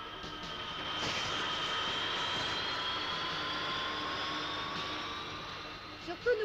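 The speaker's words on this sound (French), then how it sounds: "C'est un micro-avion, la dernière invention de mon père." A small homemade micro-aircraft flies with a steady, high-pitched droning engine whine that holds evenly for several seconds before fading slightly, with a faint clatter at the end.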